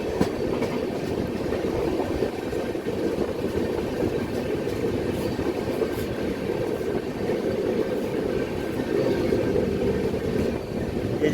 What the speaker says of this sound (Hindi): यहाँ पे कोई तो ट्रेन बाहर निकल रही है मथुरा जंक्शन से।